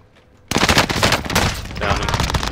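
Gunfire in the video game Call of Duty Warzone breaks out suddenly after a quiet start, then loud, dense automatic bursts and overlapping shots continue without a break.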